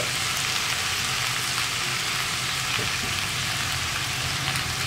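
Eggplant, potato and garlic frying on a low flame while being stirred, giving a soft continuous crackling sizzle that stays even throughout, close and with no voices.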